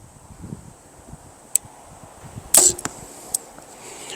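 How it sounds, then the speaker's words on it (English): Three sharp arrow strikes on a target land a second or so apart in cold outdoor air, each a crisp, brief snap over light wind. "it's always good to shoot multiple arrows"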